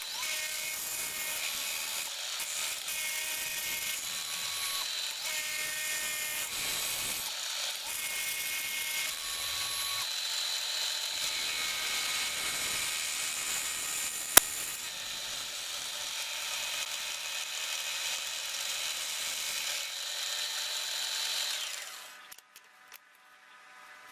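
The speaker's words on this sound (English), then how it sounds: "we're machining our aluminium ingot into a cuboid with flat faces" A milling machine machines a cast aluminium ingot, made from melted-down cans, into a cuboid with flat faces. A loud, steady cutting whine runs continuously for about 22 seconds and then stops abruptly, with no talking.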